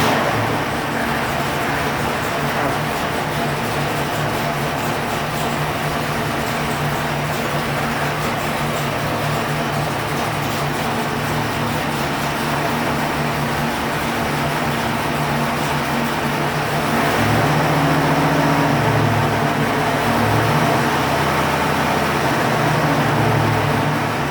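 A 1968 Stroker 540 engine with EFI idles on a dyno, a loud continuous rumbling drone that deepens and grows slightly heavier in the last few seconds.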